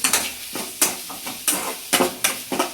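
Spoon scraping and stirring chilli powder, salt and spices in a frying pan with soybeans for soya chilli, a series of close, irregular scraping strokes over a light sizzle.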